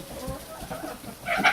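Chickens cluck softly in a brief burst, with short murmuring calls building to a slightly louder squawk at the end.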